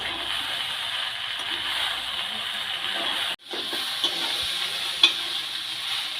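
Mixed vegetables and fried peanuts stirred in a sizzling pan, a continuous close hiss of frying with scraping stirs, one brief break midway and a sharp clink near the end.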